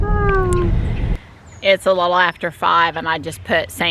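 Pet cats meow a few times near the start, close and clear, before a person begins talking outdoors while spending time with the kitties.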